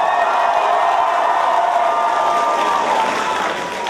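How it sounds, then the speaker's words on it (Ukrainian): A live show audience in Kyiv bursts into loud applause mixed with cheering, a thick continuous roar of clapping and shouts that fades slightly at the end. "А тепер ваші оплески Сергію і Наді."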